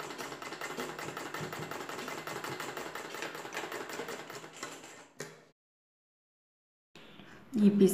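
Sewing machine stitching a blouse lining, a steady, close, fast mechanical whirr and needle clatter running for several seconds, then stopping into silence before a brief restart.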